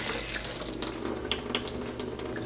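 A kitchen tap runs steadily while a knife is rinsed under it, a close, constant hiss of water with faint splashing.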